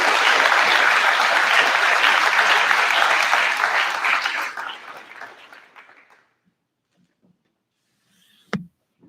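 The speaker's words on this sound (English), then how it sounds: "You can get one more round of applause for the entire leadership team." An audience at a university design-build-fly team unveiling gives a loud round of applause that fades out over several seconds into near silence, followed by a single sharp knock or thump.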